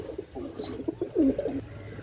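Saharanpuri pigeons coo close by in a loft of fancy breeds, a short series of soft, throaty rolling coos with no talking over them.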